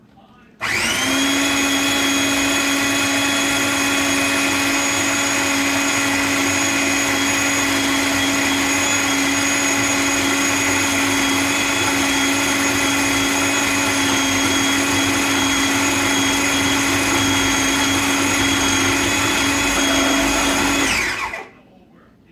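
An electric blender runs steadily for about twenty seconds, mashing dates into a thick paste, its motor giving a loud, even whine with strong harmonics before cutting off abruptly at the end.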